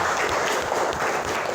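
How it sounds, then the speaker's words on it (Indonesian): A classroom group applauds for a student, a steady wash of clapping hands lasting about a second and a half with no pauses and no speech over it. "tepuk tangan dong buat Rania."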